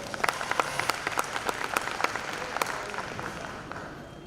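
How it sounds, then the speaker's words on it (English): Scattered audience claps at a youth supply chain management workshop, a modest round of applause of individual hand claps that thins out over a few seconds, with faint voices beneath. "Let's give her a round of applause."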